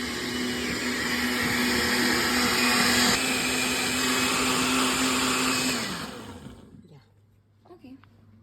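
A blender whirs loudly and steadily on albondigas sauce for about six seconds, then winds down and stops, leaving quiet room noise with a few soft sounds after.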